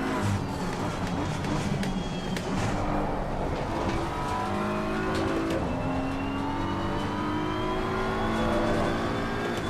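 Race car engines in the Assetto Corsa Competizione racing game at Imola, a steady high revving drone that climbs and shifts through gears, with other cars passing and faint tire noise throughout.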